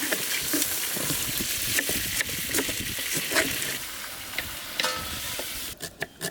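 Brinjal (eggplant) sizzles steadily in hot oil for an oil brinjal gravy, with a spoon stirring and scraping the pan at irregular moments; the frying hiss stays loud and close throughout, with no talking.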